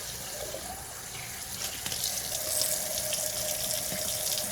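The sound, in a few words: rinsing out an ink bottle under the tap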